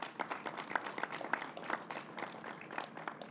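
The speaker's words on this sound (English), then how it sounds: "Let's give them a round of applause." Modest audience applause at a university announcement event, scattered individual claps forming an uneven, fairly sparse round of clapping, moderately quiet and close.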